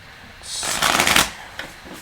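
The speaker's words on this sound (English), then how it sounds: "More shuffle." Tarot cards being shuffled in one riffle that builds to a dense, fluttering burst, close and clear, followed by a small tap.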